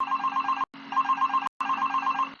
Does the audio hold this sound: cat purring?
no